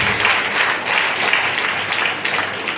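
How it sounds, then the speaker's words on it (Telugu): A Telugu Christian congregation claps loudly at a pastor's urging, a strong, dense roar of many hands beating in rolling pulses, close and sustained without pause for the whole stretch. "చప్పట్లు కొట్టండి గట్టిగా."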